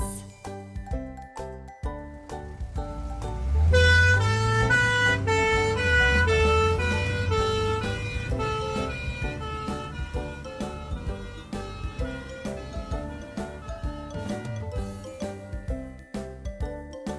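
Toy ambulance siren sounding among bright, jingly electronic tones over a bouncy beat, fairly loud and continuous, with no voices.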